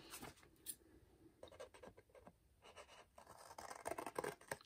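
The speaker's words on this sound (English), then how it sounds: "Now I'm going to take my scissors and I'm going to cut in a line from there to there." Scissors snip through paper for a frog pop-up card, a series of faint, close crisp cuts and rustles in a quiet room.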